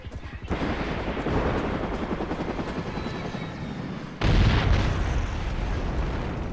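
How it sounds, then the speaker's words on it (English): Helicopter hovering above a runway in a Far Cry 5 game set in Hope County, a loud continuous rotor roar with a sudden louder burst like an explosion partway through, no talk over it. "there's a helicopter hovering above the runway"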